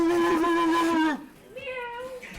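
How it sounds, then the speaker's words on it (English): A cat lets out a clear, close meow, followed by a second shorter, higher mewing call. "I just heard a meow."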